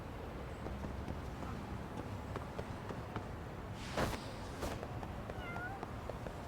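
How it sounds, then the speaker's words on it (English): Cats in the video game Lost Judgment, heard as a few soft meows over steady game ambience and background noise, with a brief louder burst partway through. "It was these cats over here"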